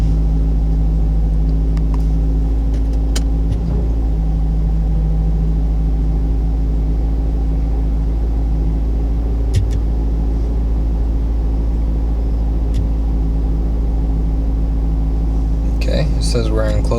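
A car engine idles steadily during an OBD scan tool test, a constant low hum and rumble throughout with faint clicks and a brief rustle near the end.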